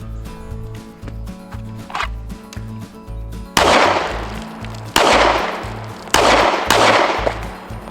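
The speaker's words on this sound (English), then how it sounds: "this FN ammo out of this gun has 0 recoil" Gunshots firing FN 5.7x28mm ammunition outdoors, four loud sharp cracks spaced about a second apart, each with a brief ringing tail, over a rhythmic low background rumble.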